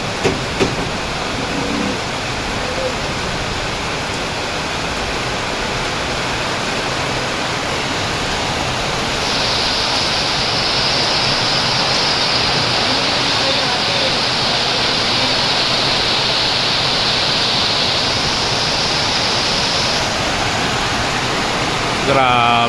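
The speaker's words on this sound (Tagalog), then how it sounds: "Lalong lumakas ang ulan." Heavy rain pouring down onto a house under construction, a loud, dense continuous hiss and roar that swells louder partway through, with people talking faintly beneath it.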